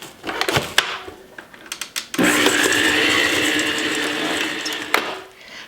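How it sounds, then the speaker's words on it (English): A stand mixer fitted with a paddle churns a sticky condensed milk mixture for coconut marshmallow balls, starting after a few clicks and knocks and then running as a steady, loud motor whir before winding down. "I'm going to put my paddle on. I'm going to use this today to mix it up because it's so sticky"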